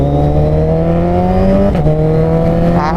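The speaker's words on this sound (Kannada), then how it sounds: "Craze ಆಗಿತ್ತಲ್ವ down shift." A Suzuki Hayabusa motorcycle fitted with a Penta carbon exhaust runs loud and close, its engine note stepping down through gear changes with a brief burble between shifts, no talking.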